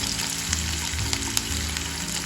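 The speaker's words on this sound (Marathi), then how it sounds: "कांदा गुलाबी करून घ्यायचं" Onion frying in oil in a pan gives a close, continuous sizzle with a few light stirring clicks, heard alone without any talk.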